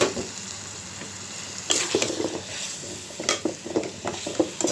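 Potatoes frying with spices in a pan, a steady close sizzle broken by bursts of stirring and scraping against the pan.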